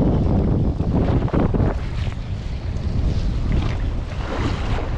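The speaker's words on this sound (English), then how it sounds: "Alright, we've got snow. It's blowing right into my eye holes." A blizzard wind roars steadily at Pyramid Lake, driving snow in loud, constant gusts that buffet the microphone with deep rumbling buffeting throughout.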